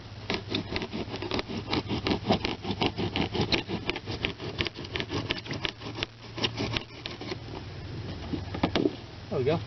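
Foamular foam board cut with a hand jab saw to make a broadhead archery target, a close, rhythmic rasping and scraping of strokes back and forth with a few soft voices.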